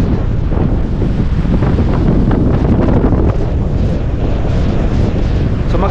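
Strong northeast amihan wind roars across the microphone at Casapsapan beach in Casiguran, a loud constant buffeting rumble that masks any surf underneath.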